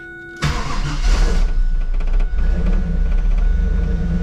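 A 1995 Chevrolet Camaro Z28 with a 5.7 LT1 V8, just after an injector replacement, cranks briefly and catches, settling into a loud, close, rumbling idle with a slight stumble partway through.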